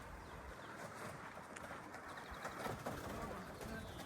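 Over thirty pigeons coo softly in a loft, low murmuring calls over a steady background hum with occasional faint rustles.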